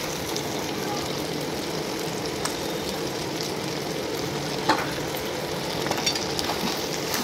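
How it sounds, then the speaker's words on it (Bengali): Chicken scraps and pre-fried potato crackle in hot oil in a pan, a steady, fairly quiet sizzle with occasional soft scraping from stirring. "এটাকে ভালোভাবে নাড়বো।"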